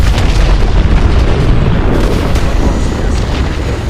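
Missile explosions striking targets at a hydroelectric dam in Call of Duty: Advanced Warfare, a loud sustained roar of booming blasts and rumbling debris.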